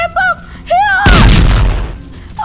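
Cartoon gunshot from an animated children's show: one loud, broad burst that rings out and fades over about a second, preceded by short high cartoon voice sounds.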